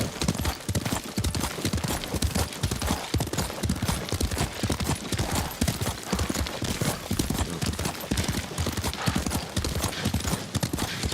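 Horse hooves gallop in a steady, rapid clip-clop rhythm through the feudal Japanese setting of the video game Ghost of Tsushima, close and continuous, with faint voices under it.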